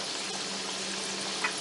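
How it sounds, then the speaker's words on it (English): Sweets fry in hot oil with a steady, soft bubbling sizzle that stays level throughout, without any voices. "So you can see our frying is almost done."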